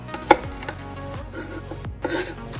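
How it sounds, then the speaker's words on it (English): Knife chopping garlic cloves on a cutting board, a few sharp separate knocks spaced irregularly over a quiet kitchen background. "let's go ahead and chop up our garlic"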